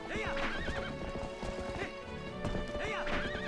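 Horse hooves clip-clop at a gallop in Zelda: Twilight Princess HD, with whinnies and neighs over game music, steady and close throughout.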